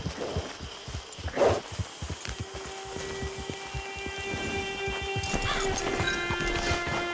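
Horse hooves clip-clop at a steady walking pace in the video game Red Dead Online, with a snort or whinny early on, ambient game tones and a faint background hum.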